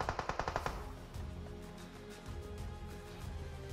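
Video game gunfire from somewhere ahead: a rapid, evenly spaced string of loud shots that breaks off after about a second, then gives way to a low rumbling ambience with scattered softer reports.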